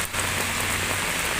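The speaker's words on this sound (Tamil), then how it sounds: "நீங்களே பாருங்கள் எவ்வளோ மழை பெய்யுது" Heavy monsoon rain falls in Delhi beside a parked car, a loud, continuous, close-up downpour hiss with no break throughout.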